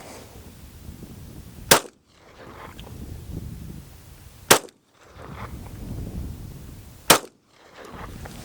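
Three sharp pistol shots from a Taurus G3 fired outdoors, evenly spaced a few seconds apart, each a loud crack followed by a brief drop in background noise.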